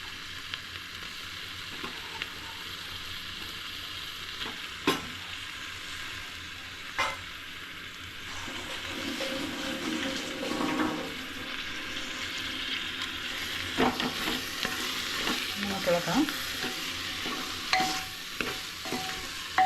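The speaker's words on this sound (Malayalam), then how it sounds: "അതിനകത്തോട്ട് നമുക്കിനി ചിക്കൻ ഇടാം" Pieces of chicken for a quick pressure-cooker chicken curry sizzle and fry in a pan while being stirred, with steady frying noise and occasional scraping clinks, close and fairly loud throughout.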